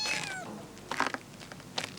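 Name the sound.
cat meowing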